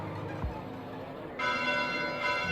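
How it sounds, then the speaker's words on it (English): Church bells ring at night in Fire Emblem: Three Houses: Cindered Shadows. A thump comes early, then a sustained, shimmering ring of overlapping bell tones swells up partway through and continues steadily. No voices are heard. "Bells? This late at night?"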